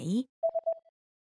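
Telephone tones in a Thai lesson recording where a woman phones a theatre to book tickets: after a brief voice, a short run of four quick electronic beeps, clean and evenly spaced, then silence.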